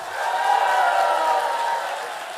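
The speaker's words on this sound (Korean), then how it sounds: "큰 박수, 큰 박수, 큰 박수" A church congregation at a Sunday worship service raises a sustained, massed shout of cheering, a swelling collective voice that holds for a couple of seconds and then eases off, with little distinct clapping.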